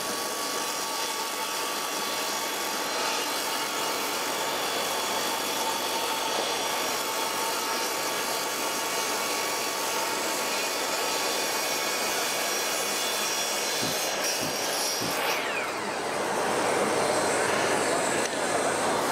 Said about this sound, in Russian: давайте выполним пропил за один проход с рекомендованным вылетом пильного диска на высоту зуба твердосплавного